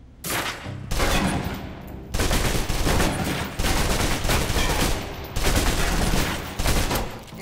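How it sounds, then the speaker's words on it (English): Submachine gun in the Alpha Protocol video game emptying a full clip in long, loud bursts of rapid automatic fire, broken by a few short pauses, with no talking. "Now, let's move on to the submachine gun. Now let's empty the clip."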